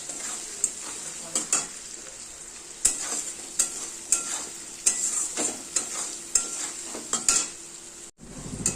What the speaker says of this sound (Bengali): মশলাটাকে একটু ভাজা ভাজা করে নেব